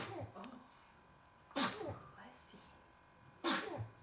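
A baby sneezes twice, short sharp bursts about two seconds apart, with soft adult talk between them in a quiet room.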